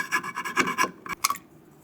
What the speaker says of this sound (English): So let's grab our little saw,